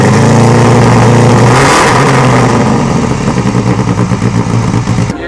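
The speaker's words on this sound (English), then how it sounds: "we were interrupted by a 4-cylinder" A vintage four-cylinder car engine at the Pebble Beach Concours revs loudly and close, rising in a roar, then drops back to a choppy, throbbing idle.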